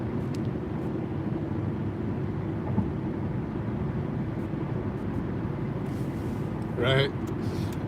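A car drives along a road with a steady low engine and road rumble filling the interior throughout, and a short chime sounds near the end.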